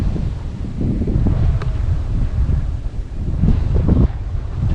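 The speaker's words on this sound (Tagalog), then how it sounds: "Lakas ng hangin po dito sa taas." Strong wind buffets the microphone continuously on high ground, a loud rumbling roar with gusty surges throughout and no voices.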